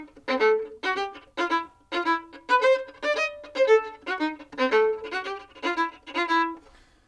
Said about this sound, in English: but long, short sounds like this